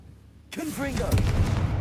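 A Confringo fire-blast spell from the Hogwarts Legacy game bursts in with a sudden loud whoosh, sustaining a rumbling, crackling roar for over a second, with faint game voices mixed underneath.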